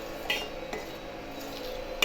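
A spoon stirs curdling milk in a pan while it thickens for a Gujarati winter sweet, giving a few light metallic scrapes and taps against the pan over a steady background, with no talk.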